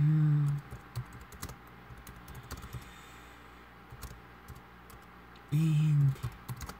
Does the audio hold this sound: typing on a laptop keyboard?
yes